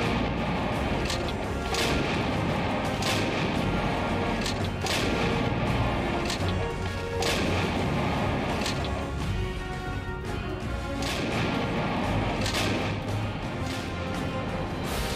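Continuous artillery shelling and gunfire at a high-altitude military border post, a dense, loud barrage of repeated booms and sharp cracks that continues without pause throughout.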